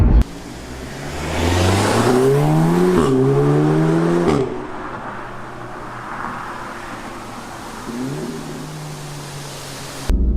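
A 2016 Audi S3 in manual mode pulls hard at part throttle, its engine note rising loud and close, then an upshift brings a sharp exhaust crackle before a quieter, steadier drone.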